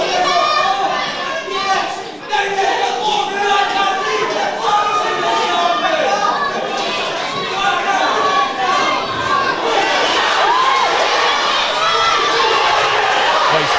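A packed crowd at an amateur boxing club home show roars and shouts continuously, dense cheering and chatter filling the hall with high-pitched voices mixed in, while a commentator speaks over it.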